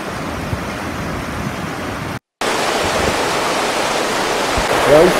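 River water flowing steadily outdoors at a sunny riverside spot, a constant broadband rushing wash that stays loud and even, cut by one brief silent gap, with a faint voice near the end.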